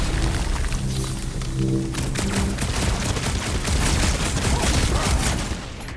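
Dense, continuous gunfire in the video game Guardians of the Galaxy, with a loud crackling barrage of rapid shots layered over a thick roar of combat noise, steady throughout before easing at the very end.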